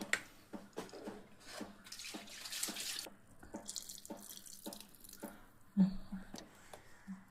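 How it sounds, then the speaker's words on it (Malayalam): Water is poured into a bowl of batter for a Kerala teatime snack, a light splashing trickle with small clinks and taps of utensils, fairly quiet and without speech. "ഇതിലൊരു ഇത്തിരി കൂടി നമുക്ക് വെള്ളം ഒഴിക്കണം"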